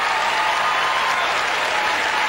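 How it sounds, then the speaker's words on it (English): An arena audience at a 1999 Skate America figure skating event in Colorado Springs applauds steadily, a dense, even wash of clapping with no break throughout. "Great reception for the crowd"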